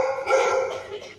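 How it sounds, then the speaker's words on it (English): Dogs bark indoors at a Pets at Home store, a short burst of mid-distance yapping that rises and fades in just over a second against shop background noise. "And dog's bark."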